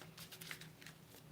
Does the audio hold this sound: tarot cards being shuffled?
yes